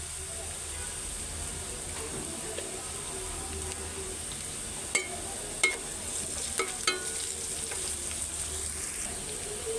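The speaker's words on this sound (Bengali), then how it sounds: "পেঁয়াজটা হালকা ভাজা হয়ে গেছে, আমি এখানে সামান্য পরিমাণ হলুদের গুঁড়া দিব" Onions fry with turmeric and salt, making a soft, steady hiss and sizzle close by, with a few faint clicks and utensil taps scattered through it.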